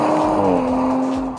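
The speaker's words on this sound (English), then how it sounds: "in dynamic mode, the exhaust does get a little more sound" A sports car's exhaust in dynamic mode gives a brief, steady droning engine note, close and moderately loud, fading slightly at the end.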